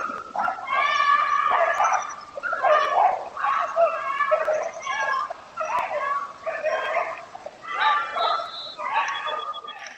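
Two dogs that escaped from a house across the street, barking, yelping and whining in rapid overlapping bursts during an attack on a person, loud and close, with no talking.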